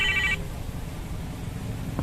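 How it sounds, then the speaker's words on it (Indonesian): A telephone rings with one short electronic trill at the start, then quiet room tone follows with a faint tap near the end. "Ada telepon nih."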